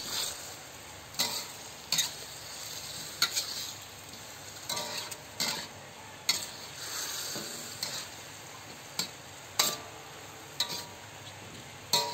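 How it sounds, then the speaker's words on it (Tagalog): Chicken adobo with soy sauce stirred in a pan: repeated close utensil scrapes and clinks against the pan in an irregular rhythm over a faint, low sizzle. "Lagyan na din natin ito ng toyo. At haluin na natin."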